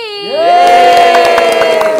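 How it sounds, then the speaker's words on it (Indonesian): A loud studio crowd at an Indonesian variety show cheers and shouts for a boy band, with a sustained tonal music sting rising over the crowd noise throughout. "Langsung saja kita beri tepuk tangan yang paling meriah"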